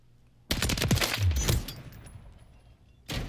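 Suppressed STG-44 in a high-recoil SMG setup with a 40-round magazine, firing in a video game: a dense, rapid burst of gunfire for about a second and a half, then a trailing tail and a brief second burst at the end.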